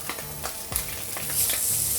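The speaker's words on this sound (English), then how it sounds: "Just gonna fry a few pieces here." Slices of Spam fry in a pan with a steady, close sizzle and crackle that grows louder, broken by a few light scrapes and taps of stirring.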